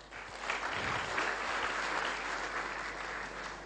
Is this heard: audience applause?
yes